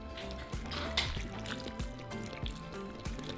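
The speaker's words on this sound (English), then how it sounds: "now we're just going to pour our beef broth" Beef broth pouring steadily into a pot, a continuous splashing gurgle with faint clinks of metal cookware.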